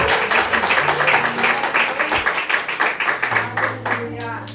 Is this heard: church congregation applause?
yes